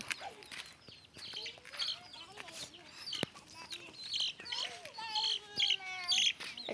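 Chickens cluck and chirp around a rural Thai home, short irregular calls rising through the clip, mixed with people talking nearby.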